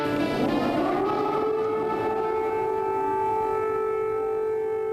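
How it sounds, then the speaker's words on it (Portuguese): A loud wailing air raid siren in Kyiv, Ukraine, its pitch sliding down and then holding a long sustained tone, with steady background noise. "Na capital ucraniana, o som das sirenes é constante."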